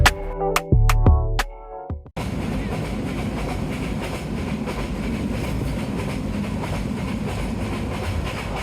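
A Dhaka-bound passenger train in Bangladesh running on the rails with a steady, loud rumble and rhythmic clatter throughout, after a short burst of tonal horn-like notes and clanks at the start.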